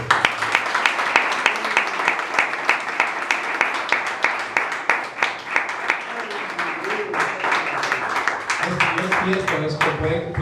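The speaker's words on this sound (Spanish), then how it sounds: "me gustaría que os dierais vosotros mismos un aplauso por la colaboración" A crowd at the launch of a charity running race claps together in a quick, even rhythm that later becomes looser, with voices speaking beneath and over the applause toward the end.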